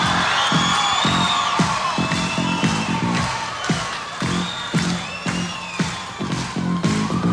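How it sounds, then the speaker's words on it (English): A capacity arena crowd cheers and whoops at a wrestling match featuring Junkyard Dog, Pedro Morales and Tito Santana, the roar loud and sustained with rhythmic clapping or stomping pulses throughout. "This capacity crowd brought to their feet."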